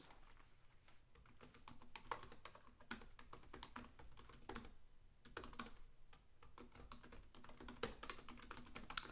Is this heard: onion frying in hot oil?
no